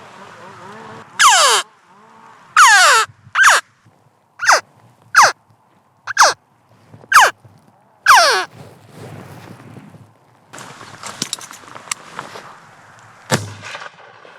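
A hunter's call imitating crows, used to draw crows in for shooting in the field, gives a series of harsh, loud caws in an irregular rhythm. Quieter rustling and scattered clicks follow, with a sharp thump near the end.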